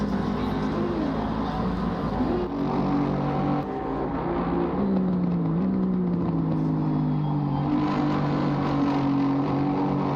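Number 42 AMG race car at Oulton Park, its engine droning steadily and shifting pitch as it brakes and accelerates, heard under a commentator's talk.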